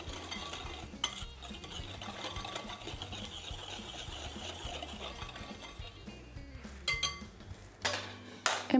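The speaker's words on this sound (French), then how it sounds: "D'ailleurs, on va prendre un fouet pour le faire. Voilà, on mélange bien" A seitan mixture whisked in a bowl, with a continuous soft rhythmic swishing and faint clinks of the whisk against the bowl, then a few louder knocks toward the end.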